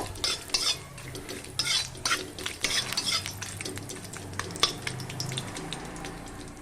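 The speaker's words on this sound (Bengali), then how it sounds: "গরম মশলাটা আমি ফোড়ন দিয়ে দিলাম গরম মশলাটা ফোড়ন দেওয়ার পর একটু নেড়ে নেব" Whole garam masala spices fry in hot oil for a chicken stew, a steady close sizzle broken by frequent sharp scrapes and clinks of a spoon stirring against the pan.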